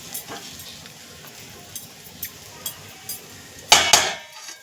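Kande pohe, flattened rice with onions, is stirred in a pan: soft rhythmic scrapes and light taps of a spoon recur over a low background, ending in a louder clatter near the end.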